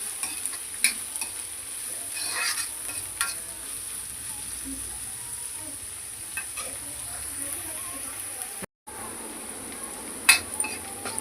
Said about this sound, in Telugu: కొంచెం క్యాబేజీ ముక్కలు ఇలా వేసుకొని అన్నీ కొద్దిసేపు అయితే వేయించుకుందాం